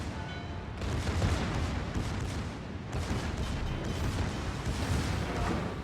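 Secondary battery guns on a warship in World of Warships keep firing in a dense, continuous rumble of overlapping booms, with one heavier shot around the one-second mark and another near three seconds.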